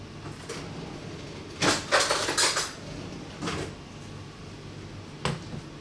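Kitchen utensils rattle as a spoon is grabbed, with a cluster of clattering metal and drawer-like clunks, a second shorter rattle, then one final clink, all fairly close over a quiet background.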